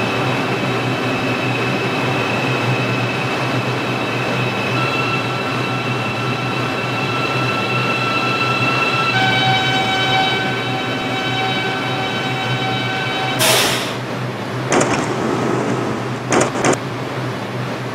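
New York subway line 6 local train to Pelham Bay Park in a mobile simulator game, running steadily with a continuous rumble and motor whine, then a few sharp brake or door bursts near the end.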